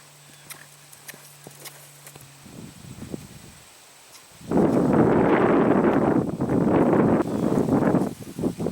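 A Tennessee Walking Horse breaks into a canter outdoors, its hooves thudding in quick rhythmic beats with wind rush and rustle, starting with quieter scattered steps before the loud gait takes over.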